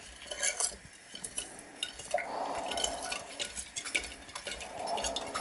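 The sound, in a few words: stirring a gold recovery solution with a spoon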